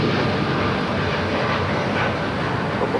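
A United Boeing 787-8 Dreamliner takes off at Los Angeles International Airport, a steady broad roar of jet engines heard from a distance, continuous and unbroken with no talking.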